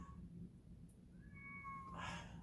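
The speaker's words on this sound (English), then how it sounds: "cat's meowing." A domestic cat meowing faintly indoors, a couple of thin drawn-out cries rising in pitch, the last one louder, over a low background hum.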